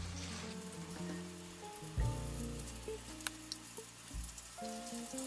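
Steady crackling sizzle of battered chicken frying in hot oil, close and moderately quiet, with a few louder pops.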